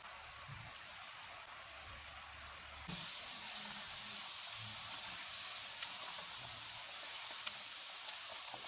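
Chicken croquette balls fry in hot oil on a medium-low flame, a soft, even bubbling sizzle that swells noticeably louder partway through and then holds steady.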